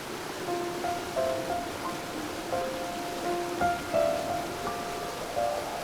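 A storm with steady rain pours as a dense, even wash of noise in an animated film scene, with faint tonal music notes drifting over the downpour and no talk.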